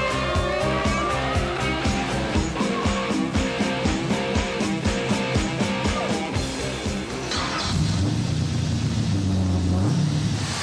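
A Corvette Stingray's 6.2-liter, 600-horsepower V8 revs and rumbles loudly, rising and falling through gears with rhythmic pulses, then settles into a deep steady roar.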